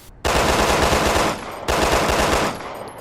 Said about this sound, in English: As you saw there, the handguns don't have a firing speed limit.